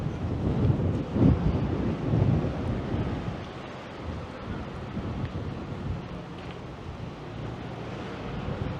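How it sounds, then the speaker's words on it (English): Wind gusts roar across a downtown Toronto street between Adelaide and Richmond, loud buffeting rumble strongest early on, then settling into a steady whooshing blow with microphone wind noise and no talk. "And now the wind picks up."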